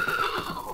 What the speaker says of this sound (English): the giant horse rears high and comes crashing to the ground